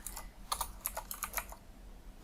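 Quick, light keystrokes on a computer keyboard while JavaScript code is typed, a soft irregular run of clicks with no voices.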